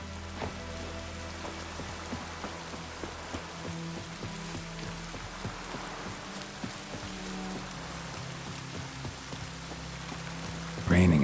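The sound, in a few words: rain in a video game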